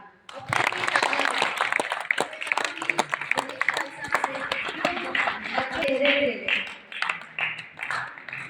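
Students at an NSS camp at Vaish College, Rohtak, clap together in a loud, close burst of quick, uneven hand claps that rises right after a short silence and keeps going, with some voices mixed in.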